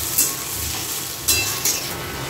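Vegetables sizzle in a pan while being stirred, giving a steady close frying hiss with a few sharper scraping bursts, alone without talk.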